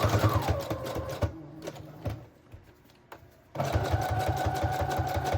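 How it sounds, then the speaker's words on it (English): A sewing machine stitches through layered paper for a patchwork junk journal, running in fast rhythmic bursts with a pause in the middle before starting again, close and clear. "we're doing all this sewing detail now"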